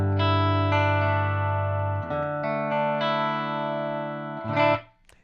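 Sustained clean electric guitar chords ring out through a Milkman Sound Creamer tube amplifier, a few changes in a steady sequence, loud and close, then fading to silence at the end.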